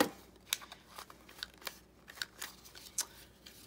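Scissors snip through paper coated with matte gel medium while envelopes are made for a desktop calendar; about five quiet, crisp cuts come at irregular intervals over a soft background, with no talking.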